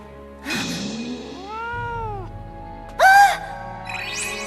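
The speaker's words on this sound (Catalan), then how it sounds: "Quin gat més gros, que bonic!" A cat meows a few times with drawn-out, wavering cries, one louder and higher near the end, alone with no talking.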